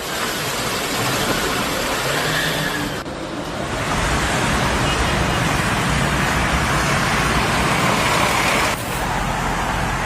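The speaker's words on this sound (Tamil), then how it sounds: "துபாய், அபுதாபி, ஷார்ஜாவில் பெருமழை." Heavy rain pours down in Dubai as a steady, loud broadband wash that fills the whole stretch, dipping briefly near the start before roaring on evenly.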